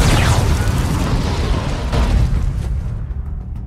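A loud, roaring suicide bomb explosion fills the clip with a dense rumbling blast that slowly fades away.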